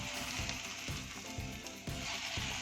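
A freshly flipped breakfast item sizzles steadily in a frying pan, close and continuous, with a series of soft, rhythmic thumps or scrapes running through it and no voices.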